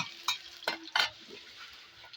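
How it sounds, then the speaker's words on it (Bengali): Dried red chillies and panch phoron are stirred in hot oil in a kadai, a low crackling sizzle punctuated by three sharp spatula scrapes and clinks against the pan, close, with no talking. "এবার কড়াইয়ের মধ্যে এই শুকনো লঙ্কাগুলো ফোড়ন দিয়ে দেবো, আর তার সাথে এখানে দেবো পাঁচফোড়ন ফোড়ন দেবো।"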